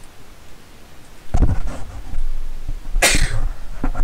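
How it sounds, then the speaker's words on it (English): Two sneezes from one person, close and loud, the first a sharp burst followed by sniffling and rustling, the second a louder explosive sneeze with noisy breath after it. "I am sneezing up a storm."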